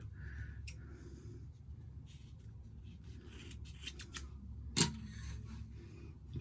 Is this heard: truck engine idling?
no